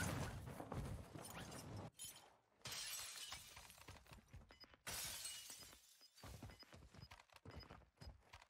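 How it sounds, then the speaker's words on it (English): Glass shattering in the Warzone 2 video game, a few sharp crashing bursts separated by brief gaps amid game noise, with no talking. "He broke glass."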